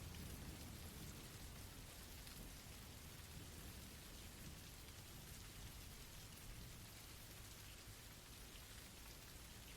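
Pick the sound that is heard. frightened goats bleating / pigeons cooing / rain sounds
rain sounds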